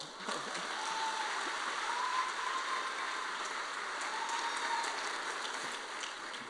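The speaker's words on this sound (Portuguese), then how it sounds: "Dê um aplauso ao Senhor" Congregation at a church congress applauding, a fairly quiet, even patter of many hands clapping continuously, heard from some distance.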